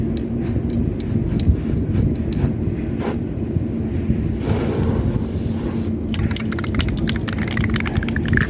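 Spray paint hissing from an aerosol can onto a taped surface on a van, short bursts followed by a longer continuous spray, close and fairly loud, with no speech.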